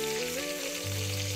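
Salisbury steak patties fry in a pan with an even, continuous sizzle, heard briefly under sustained background tones.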